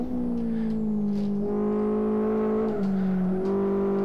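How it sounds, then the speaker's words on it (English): Mazda Miata race car in the Live for Speed racing game at Blackwood, its engine droning steadily with pitch steps at gear changes while the car is thrown through the last corners, loud and continuous with no talk. "So we'll just throw the car around these last couple corners."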